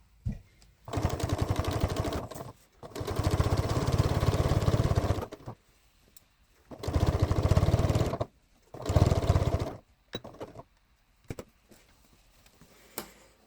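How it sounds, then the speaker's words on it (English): Sewing machine stitching around the petals of a daisy pattern in fabric, a steady motor whir running in several separate bursts of a second or two each, separated by short pauses and light handling noises. "so we're just sewing around each petal"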